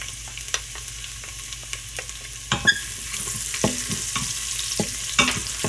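Chopped garlic and asafoetida (hing) frying in hot oil for a Gujarati ridge gourd and moong dal dish, a steady close sizzle broken by sharp clicks and spatters as the spoon stirs the pan.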